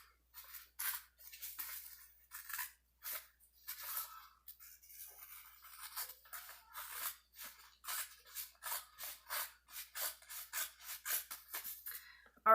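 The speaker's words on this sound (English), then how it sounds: "we're just gonna take our scissors and just cut this off" Scissors snip through paper in a steady series of crisp cuts, close up and rhythmic, with brief pauses between strokes and no talking.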